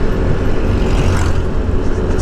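Road traffic rumbles past at a roadside near an expressway service road in the Philippines, a loud, dense, steady roar of passing vehicles with no talk.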